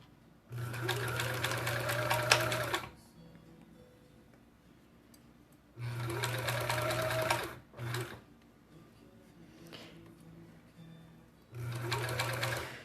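A sewing machine stitching fabric for puppy and kitty ornaments, running in three short bursts of rapid, even humming clatter. Quiet pauses fall between the bursts, with faint handling noise as pins are pulled.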